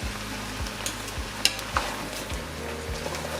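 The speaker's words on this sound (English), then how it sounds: "So just mix everything." Spinach rice with squash and baby ochroes being stirred in a pot: soft scraping strokes at a steady pace over a gentle background sizzle, close and quiet, with no voices.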